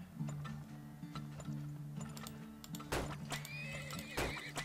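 Several horses whinny and neigh in the video game Turmoil over a steady tonal drone and ticking game ambience, with a couple of louder whinnies near the end.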